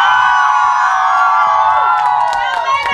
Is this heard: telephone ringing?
no